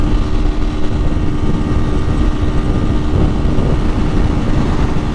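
Engine of a 2008 Honda Fan 125 motorcycle runs loud and steady at close range, a dense, continuous rumble with no clear pauses.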